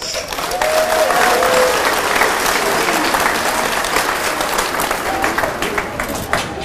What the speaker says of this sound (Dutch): Ik vind die mensen verdienen wel een applaus